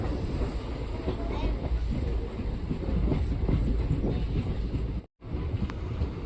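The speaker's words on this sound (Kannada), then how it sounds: "ನಮ್ಮ ಟ್ರೈನ್ ಈಗ ತನಕಲ್ಲು ರೈಲ್ವೆ ಸ್ಟೇಷನ್ಗೆ ಎಂಟ್ರಿ ಆಗ್ತಿದೆ" A passenger train pulling into Guntakal railway station, carriages rumbling with a steady clatter of wheels and a roar of wind, loud and continuous up close, broken by one brief dropout.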